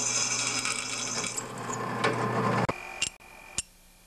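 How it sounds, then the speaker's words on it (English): A power drill bores a hole through angle iron for a homemade chainsaw bike, a steady high whining grind that cuts off abruptly, followed by a few sharp clicks and short bursts. "First I got to drill a hole through here and put the little pulley on."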